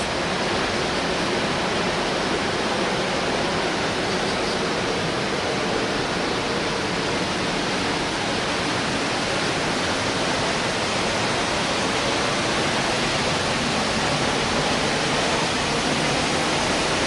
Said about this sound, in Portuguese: Uma cachoeira, velho.